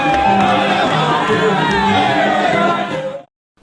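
A dense crowd on a politician's return home makes a loud, continuous roar of voices and cheering that holds steady for about three seconds and then cuts off abruptly.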